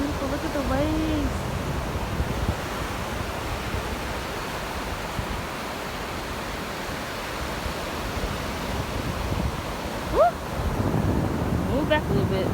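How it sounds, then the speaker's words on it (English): Ocean surf rolls in at Cocoa Beach, Florida, a constant broad wash of waves mixed with wind buffeting the microphone, with a brief whoop and faint voices near the end. "Look at the waves."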